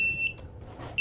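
A buzzer on an 8051 and Arduino ultrasonic distance alert system gives short electronic beeps, one near the start and another at the end, clear and close over quiet background.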